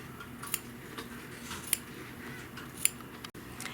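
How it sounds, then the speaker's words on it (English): Scissors trimming quilt batting on a trapunto pillow, three or four quiet, sharp snips spaced about a second apart over a faint background hiss. "now I need to go in and I need to trim my batting"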